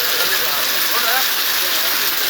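Heavy rain pouring on the MC road near Sadanandapuram, Kottarakkara, a dense, loud, steady hiss of falling water with no pause across the whole stretch.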